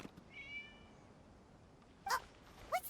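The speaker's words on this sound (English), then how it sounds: "It was just a cat." A cat meows in the video game Genshin Impact, a drawn-out mew followed by two short chirpy meows over a quiet ambient hum.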